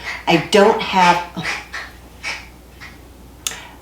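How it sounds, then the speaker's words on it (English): A short nasal, duck-like squawk from a cat rings out amid speech, followed by a few fainter calls and a sharp click near the end. "That's my cat that sounds like a duck."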